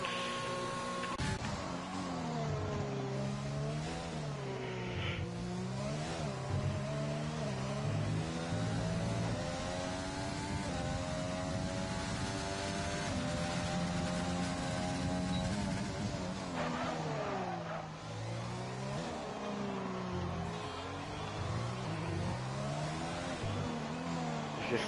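Sim race car engines scream on a hot lap, a steady loud whine rising and falling through repeated gear changes and revs, with no voices.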